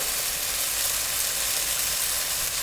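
Onions hitting a pan of sautéed beef strips for a stir fry, a steady loud hissing sizzle that fills the space without pause, close up and with no voices.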